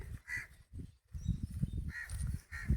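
Crows caw several times at close range in a village, the harsh calls repeating in short bursts over soft rustling and background movement.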